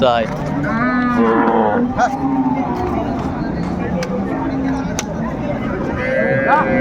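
Cows and calves moo repeatedly at Ambari cattle market in Dinajpur, drawn-out calls rising over a busy babble of traders bargaining nearby, with sharp clicks and knocks scattered through the crowd noise.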